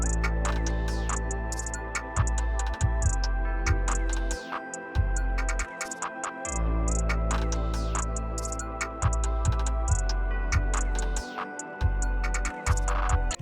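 An ambient hip-hop beat made in FL Studio plays alone, deep booming 808 bass notes pulsing under sparse hi-hat ticks and sustained airy synth pads, steady and fairly loud throughout.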